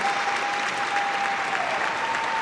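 An arena crowd at the ISU European Championships women's short program in Sheffield applauds a figure skating performance, a broad, sustained wash of clapping with a faint steady tone running underneath.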